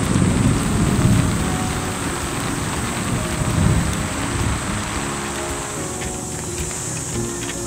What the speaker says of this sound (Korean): 빗소리는 좋다.